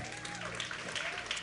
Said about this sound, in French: Une bonne main d'applaudissement pour Sam.